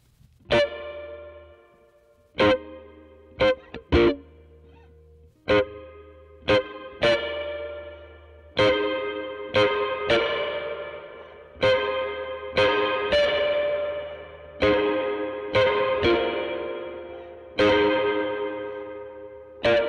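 Guitar notes run through the Benson Chimera reverb plugin with tube saturation, separate plucked chords whose distorted tails ring out and overlap, growing denser over time, with no talk.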